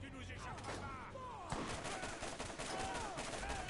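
Rapid turret gunfire from the video game Borderlands 1, dense bursts of shots layered with game effects and a louder burst midway, continuing steadily throughout.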